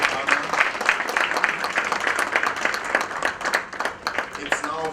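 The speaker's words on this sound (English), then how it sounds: "Another round of applause for the guest partner." An audience at the opening of an international conference on embedded and mobile systems breaks into sustained applause, dense and even throughout, with voices mixed in beneath the clapping.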